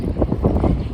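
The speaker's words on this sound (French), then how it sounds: "Il y a beaucoup de vent, c'est certain." Strong wind buffets the microphone outdoors, a loud, low rumbling roar that surges and gusts continuously through the whole short moment.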